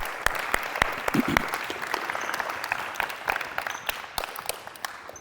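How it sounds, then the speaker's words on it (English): A small group claps at a basketball shooting workshop, crisp individual hand claps standing out over a steady wash of applause that continues throughout at moderate loudness. "Give them a round of applause"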